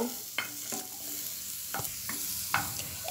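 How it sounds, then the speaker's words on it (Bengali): Garlic cloves and cubed onion fry in a pan, a soft continuous sizzle punctuated by four distinct spatula scrapes at irregular intervals, close and without any talk. "এগুলোকে একটু ভেজে নিব"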